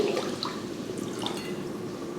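Water poured from a jug into rice for cooking in a home kitchen, a steady close splashing and trickling stream with no talk.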